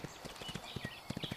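Horse hooves clip-clopping in the video game Windstorm, a quick uneven run of crisp, close hoofbeats, about a dozen strikes, with faint ambient game sound behind and no talking.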